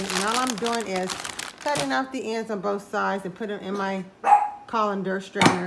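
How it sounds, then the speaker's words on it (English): A dog barks a few times in a kitchen while someone talks over it, trimming and rinsing fresh green beans; the barks are short and sharp, mostly under the voice, with louder bursts near the end. "That's my dog, y'all."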